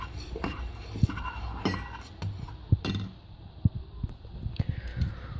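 A spoon clinks and taps against a bowl while stirring sesame oil and olive oil together for a hair mask, giving irregular sharp metallic knocks with quiet pauses between them.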